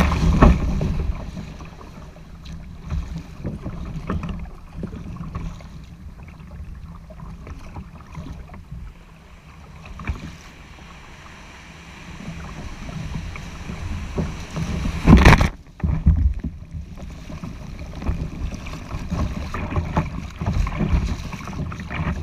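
A fishing kayak launches through ocean surf off Oregon. Wind buffets the microphone over rushing water and splashes, with a loud surge of wave noise midway.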